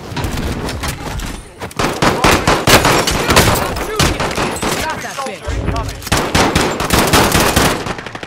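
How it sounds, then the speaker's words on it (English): Loud, close gunfire in a shooter video game, involving a Kar98k, with rapid machine-gun bursts and single shots throughout and voices mixed in. "hostile fire."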